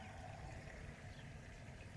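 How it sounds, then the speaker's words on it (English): A low, steady rumbling bubble as a pot of water begins to boil in a solar cooker, faint and continuous with no voices. "Water is starting to boil."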